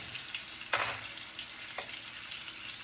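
Balsamic chicken sizzles steadily in a pan, a soft continuous frying hiss with a brief louder crackle near the start and a smaller one later, close and moderately quiet with no talking.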